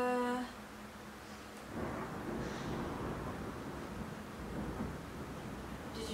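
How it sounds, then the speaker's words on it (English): A low, rolling rumble of thunder builds and lingers softly in the distance over faint rain, with no voices during the sound. "you guys hear that? The thunder."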